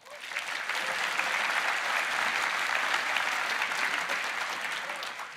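A keynote audience at RDC 2024 gives a full round of applause, a dense, steady roar of many hands clapping that swells quickly, holds, and then eases slightly at the end.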